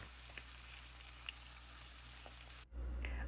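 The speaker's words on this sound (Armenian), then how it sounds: "Բանջարեղենները կտրտելուն զուգահեռ տապակում ենք նաև սմբուկը։" Eggplant sizzles steadily in a frying pan, a quiet continuous crackle and hiss with faint pops, ending in a brief cut to a louder, fuller frying sound.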